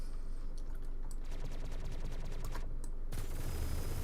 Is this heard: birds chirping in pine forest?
no